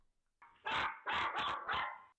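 Dogs bark in three or four sharp, loud bursts in quick succession, with a short rough lead-in, heard on a home security camera recording and with no voices over them.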